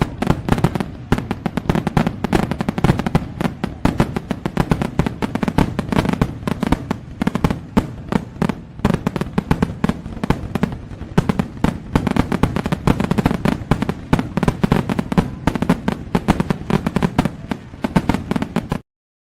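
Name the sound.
fireworks and firecrackers exploding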